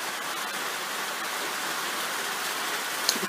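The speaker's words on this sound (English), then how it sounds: "the sound of the rain was even louder" Heavy rain pours down in wet, windy weather, a dense steady hiss of drops at an even level with no talk.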